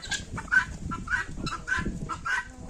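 Black Copper Marans chickens clucking in short repeated bursts over a low background murmur, moderately close, with a steady farmyard feel.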